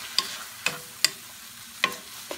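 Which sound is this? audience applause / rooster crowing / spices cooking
spices cooking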